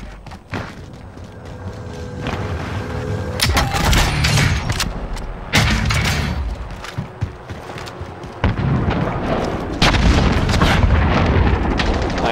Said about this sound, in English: I downed two with the airstrike.